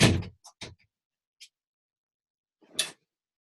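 A door swings shut with a soft thud, followed by a few small clicks and rattles of a lock, then a firmer latch sound after a pause.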